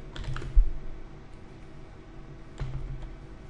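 Keys clatter on a computer keyboard during a message being typed in an automotive mail program, with a quick burst of clicks at the start, a short pause, then another run of taps later, close and fairly soft.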